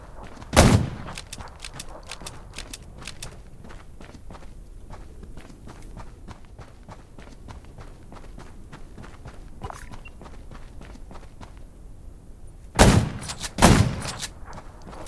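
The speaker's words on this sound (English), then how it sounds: "Gunshots will attract more zombies." Rapid footsteps patter steadily throughout in the video game Undawn, broken by a sharp burst of gunfire at the start and two more loud shots near the end.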